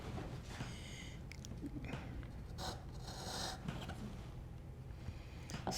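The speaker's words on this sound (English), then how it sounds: "I'm just getting rid of the rust." Rust is scrubbed off a metal hand plane in short, irregular rasping strokes, close and fairly quiet.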